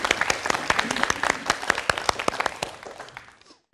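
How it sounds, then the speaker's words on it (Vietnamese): A studio audience at a television word game show claps, a close, loud burst of many hands with distinct sharp claps that thins out and fades to silence within a few seconds. "Xin cảm ơn quý vị đã lắng nghe và một tràng vỗ tay ạ."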